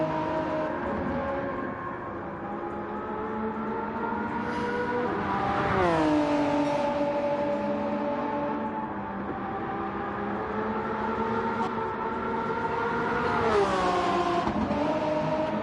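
Race cars in Gran Turismo 7 roar steadily through a Super Championship round at Circuit de la Sarthe, engines droning and rising in pitch together, with two distinct passes surging louder, no voices.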